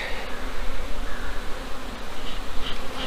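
Honey bees buzzing around a farm hive, a steady close swarm drone that swells and eases slightly, with an occasional louder bee passing near and no talking.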